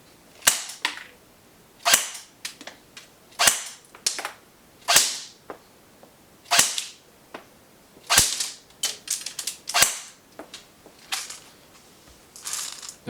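Sharp single shots from an S&T G36CV airsoft electric gun on a 9.6 volt battery with 0.20 g BBs, fired through a chronograph: about a dozen loud, close cracks spaced a second or so apart with faint clatter between.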